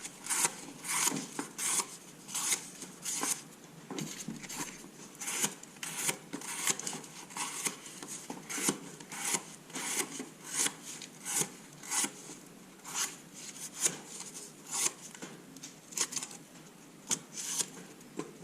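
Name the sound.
Opinel knife with 30,000 grit edge cutting cardboard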